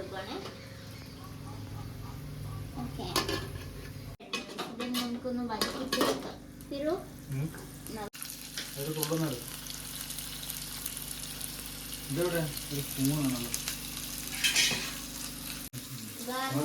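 Cooked beef is stirred into biryani in a pot, with a spoon scraping and clinking against metal and a soft sizzle throughout while people talk over it.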